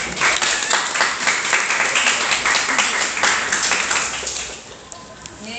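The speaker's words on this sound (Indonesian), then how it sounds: "Tepuk tangannya dulu untuk kelompok 4." A classroom of students claps for a presenting group, a burst of dense, fairly loud applause that continues for several seconds and then thins out toward the end.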